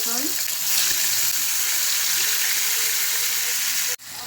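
Hilsa fish coated in turmeric and spice paste lands in hot oil in a pan, bursting into a loud, steady sizzle that keeps on evenly before cutting off abruptly near the end.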